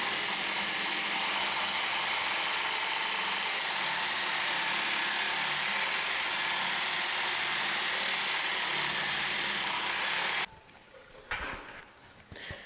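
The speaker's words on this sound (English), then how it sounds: "So I'll use a very fine tooth Sawzall blade." A Sawzall fitted with a fine tooth metal-cutting blade buzzes continuously through a steel pin on a snow bucket, loud, close and unbroken for about ten seconds before cutting off to quieter shuffling.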